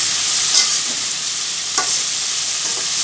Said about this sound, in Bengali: তারপর আস্তে আস্তে মাছগুলো উল্টে দিব মশলার মধ্যে, যেন মাছের মধ্যে মশলাটা